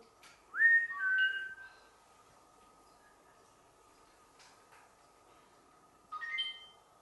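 Two short whistles inside a historic Guild Hall, a bright rising-then-level tone near the start and a brief second one about six seconds later, separated by quiet room hum with no talk.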